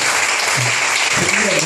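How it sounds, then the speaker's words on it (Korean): A short, loud burst of audience applause at a church prayer meeting, dense clapping throughout with faint voices beneath it. "우리 이 부모님들의 좀 위로의 박수"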